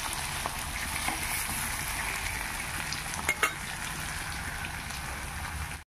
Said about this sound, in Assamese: এনেই আলু আৰু ভাতকেৰেলাও ভাজোঁ